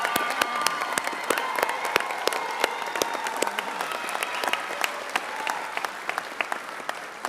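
Applause from a large audience at a medical school commencement, a sustained wash of clapping with distinct individual claps popping out near the microphone and faint crowd murmur, tapering slightly toward the end.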